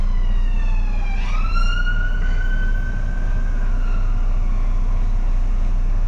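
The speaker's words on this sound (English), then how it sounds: "we had a fire engine come down" A fire engine siren wailing as it passes a city bus, its sweeping tone dropping in pitch as it goes by, heard over the bus's steady low engine hum.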